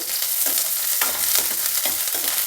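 Chopped onion frying in a hot pan gives a close, continuous sizzle, broken by rhythmic scraping as it is stirred.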